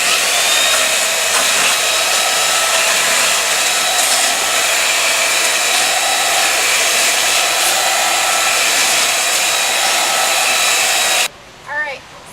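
A power sander fitted with coarse, rough sandpaper grinds steadily across a wooden deck surface, a loud continuous whine that runs unbroken for about eleven seconds before cutting off, followed by a brief faint sound.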